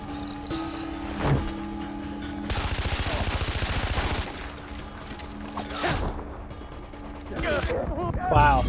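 Heavy machine gun fire in Far Cry 4, a sustained rapid burst of shots in the middle amid scattered gunfire, mechanical clanks and creaks, with a voice talking at times.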